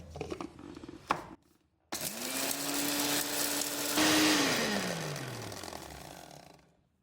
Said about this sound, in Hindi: अब इसको मैं चॉपर में पीस लूँगी।